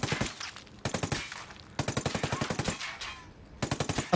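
A suppressed Stoner LMG A1 light machine gun in the game Ghost Recon Wildlands fires several rapid bursts, each a tight run of loud, punchy shots separated by brief gaps.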